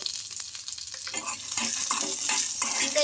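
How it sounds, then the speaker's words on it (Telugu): Peanuts frying with garlic and ginger in a pan for an oats and moong dal dosa recipe, a steady close sizzle with repeated stirring scrapes, no talk. "దీంతో పాటు పల్లీలు కూడా బాగా ఫ్రై చేసుకుందాం"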